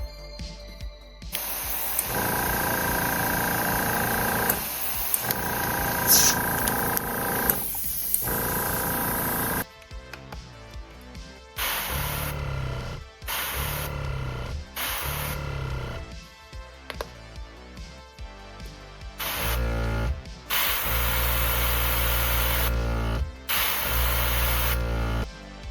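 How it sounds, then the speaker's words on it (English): An old, problematic air compressor runs loudly and close by during airbrush painting, its hiss and mechanical drone cutting in and out in repeated on-off bursts. "As I mentioned, the old compressor has problems."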